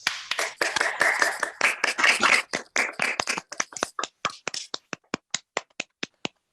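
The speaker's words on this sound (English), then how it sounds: "give a big round of applause" Applause from a small online event audience, several people clapping at once, thinning out to a few lone claps that slow and fade away.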